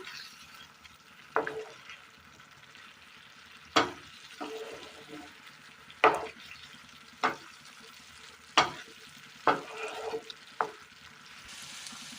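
Quiet frying sizzle as okra cooks in masala, under a series of distinct spoon scrapes and stirs against a pan, roughly one every second or two, close and unhurried.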